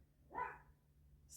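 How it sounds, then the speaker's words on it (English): A dog gives one short, faint bark from a distance against a quiet indoor background. "Sorry about my dog."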